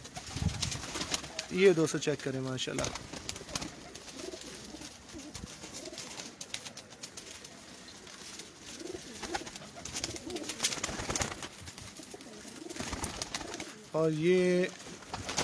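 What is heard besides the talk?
pigeons cooing in a loft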